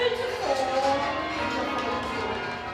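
Church bells rung in a tower, overlapping tones ringing steadily and fairly loud, sustained chimes layered throughout with no voices over them.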